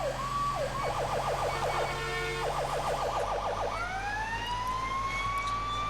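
An emergency vehicle siren from the video game FivePD wails continuously, shifting between a rapid yelp and a slower rising wail, with a low engine-like drone underneath; electronic and steady, close by.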